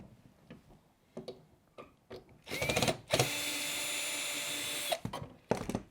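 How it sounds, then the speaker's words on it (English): Phillips screws are driven out of an LG washing machine panel, with a few scattered clicks followed by a steady high whirring driver run of nearly two seconds, then brief handling taps. "remove those with your Phillips head screwdriver"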